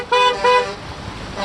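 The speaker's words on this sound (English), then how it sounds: "What the heck is everybody honking for?" Two short car horn toots in quick succession, fairly close, followed by road noise from traffic on a flooded street in Sun Valley, Los Angeles, during heavy rain.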